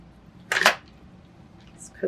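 Scissors make one short, crisp snip through spray-treated fabric, cutting a pocket piece for a mixed media art journal page; the cut lands close and alone, with a faint tap near the end.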